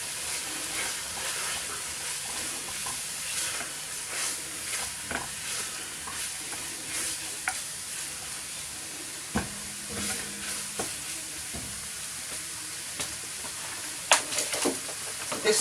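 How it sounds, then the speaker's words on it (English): Homemade stock poured into a sizzling flour roux in a pan for a creamy chicken, herb and veg casserole, giving a steady close hiss and sizzle with scattered stirring scrapes and clicks. No one talks. "I'm going to throw the stock in that I made"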